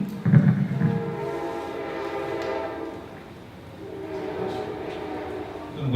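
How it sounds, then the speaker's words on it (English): A train passes close by, its horn sounding loudly in sustained blasts that fade and return, over the rumble of rail cars rolling past. "Wait for the train to go by, but we'll go."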